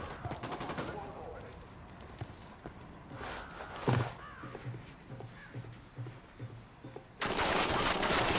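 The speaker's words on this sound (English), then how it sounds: "Opening fire on these shitheads." Gunfire in the Ghost Recon Wildlands video game: bursts of rapid shots and scattered single reports amid game ambience, with a loud sustained noise surge near the end and crows cawing in the background.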